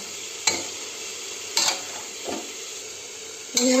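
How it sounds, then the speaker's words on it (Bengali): Cabbage and peas being stirred in a cooking pot, with a few sharp spoon scrapes and knocks at irregular intervals over a low steady simmering hiss; close, with no talk. "এই দেখুন সেদ্ধ হতে শুরু করে দিয়েছে, আর এটাকে একটু নাড়িয়ে দেবো"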